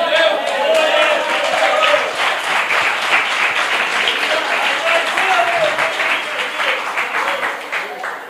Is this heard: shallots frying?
no